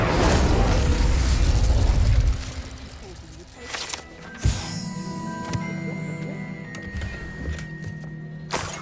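Incendio fire spell cast in Hogwarts Legacy, a loud whooshing burst near the start with a heavy low rumble, then a second sharp flare midway, ringing tones and a lingering crackle over background music, with voices talking around it.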